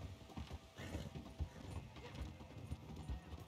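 Steady, rhythmic clip-clop of a horse's hooves in a video game, fairly close and continuous, over a busy layer of in-game ambience with no talking.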